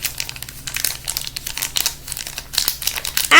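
A homemade marble mesh fidget, a marble wrapped in plastic bag and tape, is squeezed and worked close up, producing continuous crisp crinkling with a sharper rustle at the end.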